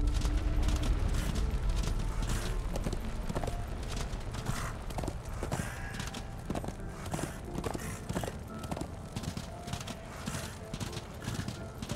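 Horse hooves clip-clop steadily in Darksiders II, a continuous rhythmic trotting over game music and ambient effects, with occasional faint talk.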